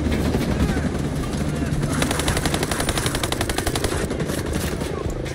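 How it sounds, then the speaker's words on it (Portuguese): A video game helicopter fires rapid machine-gun bursts over a continuous rotor drone, loud and sustained, with players talking excitedly underneath. "Agora eu vou morrer também, o helicóptero tá descendo bala aqui."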